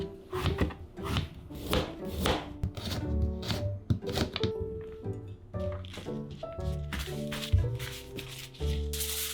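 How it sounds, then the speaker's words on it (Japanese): Kitchen knife chopping side vegetables on a cutting board, a rapid run of crisp close taps in uneven bursts with brief pauses, over faint background music and no talking. "付け合わせの野菜をカット。"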